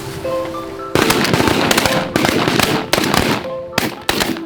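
Shotgun blasts at flying mallards during a Kansas duck hunt: about five loud, close booming shots in quick, uneven succession, each with a ringing tail, preceded by a brief tonal calling sound and no speech.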